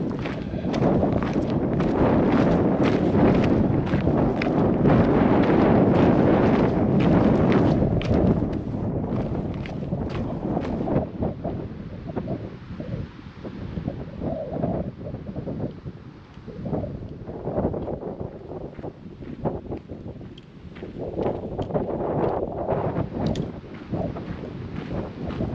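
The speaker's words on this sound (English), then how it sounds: "hopefully you'll hear me over the wind" Strong wind buffets the microphone on a mountain path in Glen Coe, a loud continuous rumble with gusts that ease off midway before picking up again, with faint footsteps or movement beneath.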